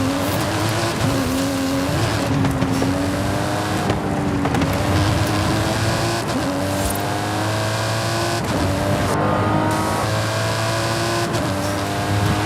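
A stunt car with a reworked engine and suspension revs hard in Forza Horizon 5, its engine note rising and falling through repeated gear changes with occasional tyre squeal, loud and continuous.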